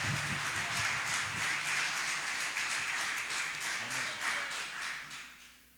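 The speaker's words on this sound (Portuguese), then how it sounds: "aplaudindo ao Senhor." A church congregation at a deliverance service applauds, producing steady, dense clapping that stays even for several seconds and then tapers off at the end, with no voices heard over it.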